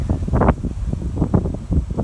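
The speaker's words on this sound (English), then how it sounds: "A little windy today." Gusty wind buffets the microphone beside an open Layens beehive, a rough, uneven low rumble that swells and fades in bursts throughout, with no voices.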